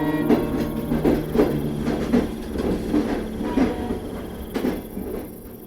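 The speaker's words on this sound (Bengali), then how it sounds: "হুইসেল মেরে একটা লোকাল ট্রেন এসে দাঁড়ালো এই মধুপুর স্টেশনে" At night a local train runs into Madhupur station, its wheels beating out a rhythmic clatter with recurring metallic knocks. No clear whistle stands out, and no one speaks.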